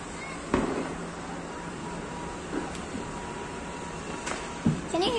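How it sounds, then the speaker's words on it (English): Diwali firecrackers and fireworks bursting at a distance: a few sharp cracks and pops spaced over several seconds above a steady low hum, with no voices. "Bombs and firecrackers are not good."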